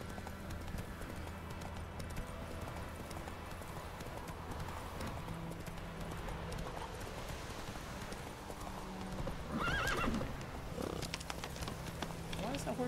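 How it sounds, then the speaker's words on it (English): Horse hooves clip-clopping at a steady rhythm in the video game The Witcher 3, with a brief neigh near the end, heard under someone talking. "Why does that horse suddenly stop across the bridge?"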